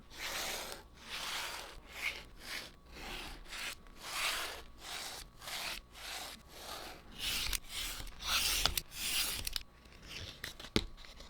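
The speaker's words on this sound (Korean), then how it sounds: "대략 기본 형태만 형지 자르겠습니다" Paper pattern being cut for a leather headband for Sennheiser HD599 headphones, a close, repeated rasping of scissors or a blade through paper in uneven strokes, with no talk.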